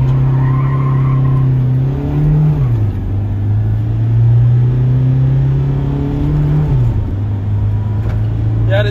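A 2014 Toyota Innova accelerates in a 0-100 race test, the engine note loud and close, rising steadily then dipping at two gear shifts before climbing again.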